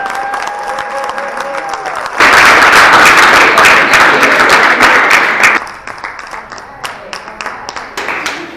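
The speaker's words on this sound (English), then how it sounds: "give Monique a huge round of applause" Live audience at a Path to Prosperity real estate event in Chicago bursting into loud applause and cheering for about three seconds, then fading to scattered claps after a voice introduces it.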